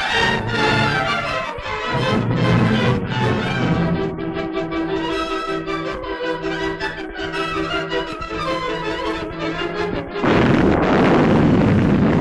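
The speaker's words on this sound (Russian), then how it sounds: "Наши саперы произвели подкоп и заложили под дом сильный заряд взрывчатки." A powerful explosive charge laid in a tunnel under a house detonates in wartime Stalingrad, with a heavy rumbling blast and crashing debris rolling continuously through a dense, loud soundscape.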